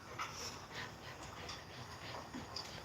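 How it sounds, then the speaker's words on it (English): A dog pants in quick, steady breaths with brief whimpers mixed in, faint and close against a quiet room. "That's my dog"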